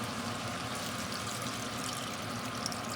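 Organic chicken broth pours from a carton into a soup pot for Italian wedding soup, a steady close splashing gush of liquid filling the pot without a break, with no talking over it.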